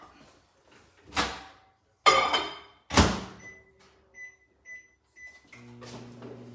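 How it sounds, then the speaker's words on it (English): Sharp thumps of a microwave door being shut, followed by a string of evenly spaced electronic beeps and then the low steady hum of the oven running. "I'm going to go ahead and put that in the microwave"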